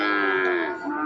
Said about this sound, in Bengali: অসংখ্য গরু আছে আমাদের এই হাটে।